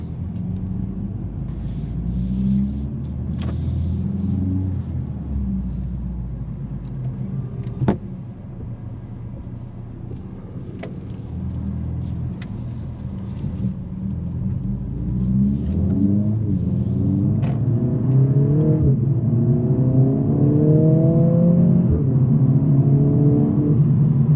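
A 2025 Mercedes-AMG CLA 45 S, a 416-hp turbo, revs and accelerates through rising gears in Sport Plus mode, a deep throaty roar swelling in pitch with brief shifts, heard from inside the cabin.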